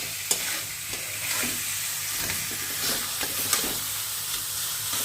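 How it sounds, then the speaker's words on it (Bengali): Prawns sauté in spice paste in a pan, a continuous soft sizzle with scattered scrapes and taps of a stirring utensil, close by and without speech. "মশলাটা দিয়ে চিংড়ি মাছটাকে একটু কষছি।"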